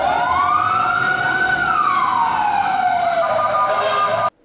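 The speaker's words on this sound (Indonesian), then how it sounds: "mobil pemadam kebakaran" A toy fire truck's electronic siren wails steadily, rising and falling in a loud, close, continuous tone that cuts off abruptly at the end.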